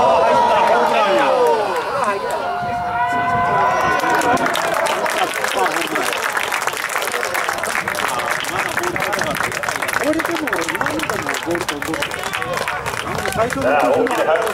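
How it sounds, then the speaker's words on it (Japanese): Stadium crowd applause after a home run at a minor-league Hiroshima Carp baseball game, a sustained wash of clapping and crowd noise with a voice speaking over it near the start. "大きな拍手でホームインを迎えましょう"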